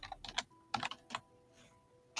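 Typing a search query on a computer keyboard, with a few quick bursts of keystrokes separated by short pauses, close and clear, and no talking.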